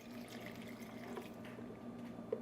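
One cup of water pours for a raw vegan mushroom recipe, a soft, steady trickle close by and fairly quiet, ending with a small splash.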